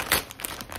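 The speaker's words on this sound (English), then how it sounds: "I'm going to just pop some holes into these plastic bags" Plastic bags holding canna lily rhizomes are poked full of holes, giving soft crinkling and brief tearing pops at close range, fairly quiet, with no talk.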